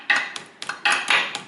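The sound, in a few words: hammer striking a pin on a drive axle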